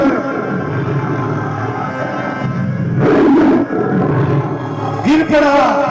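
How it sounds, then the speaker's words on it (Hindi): A performer gives the roar of Lord Narasimha in a devotional stage play at a Bhagwat katha, a loud roaring outburst heard twice over a noisy hall with crowd murmur and amplified narration beneath. "इतनी जोर से शब्द करते हैं, हुंकार भरते हैं नरसिंह भगवान।"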